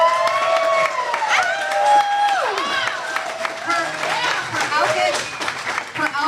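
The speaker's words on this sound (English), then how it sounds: "please give your biggest applause for Karina" Audience applause and cheering at a bike story night in a coffee shop, clapping beneath prominent whoops, whistles and voices calling out, lively and close.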